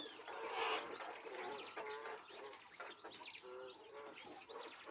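Laying hens cluck and squawk in a coop on a rural farm, a busy overlapping chorus of varied calls at close range, with no talking.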